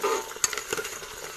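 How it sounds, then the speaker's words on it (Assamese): Chopped green chillies dropped into hot oil with browning onions for a mutton curry, a quiet sizzle with a few light stirring scrapes and clinks, close and faint. "কাটি থোৱা জলকীয়াকেইটা দিছোঁ আমি এতিয়া"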